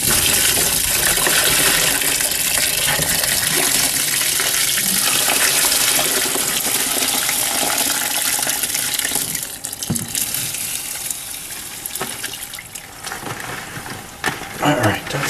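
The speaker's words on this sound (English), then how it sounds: "Most of the water is going to go right through my strainer." Water pours steadily through a honey strainer set over a sink while processing beeswax cappings, a continuous loud rushing splash that thins and sputters toward the end.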